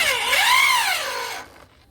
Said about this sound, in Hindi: लगाने के बाद जो है ना इसी ड्रिल मशीन से आराम आराम से दिखा दिया गया इस जगह पे टाइट कर लेंगे